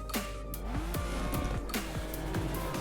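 Mitsubishi Evo IX FQ320 on the Nürburgring, engine revving hard through rapid gear changes, with repeated sharp swooping pitch drops and clicks between shifts, close and loud without speech.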